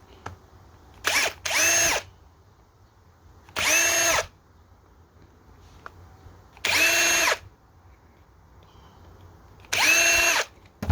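A power drill spins out four small screws from a Redmax EBZ 7500 backpack blower, heard as short separate whirring bursts, one doubled, spaced a couple of seconds apart and close by, with quiet gaps between.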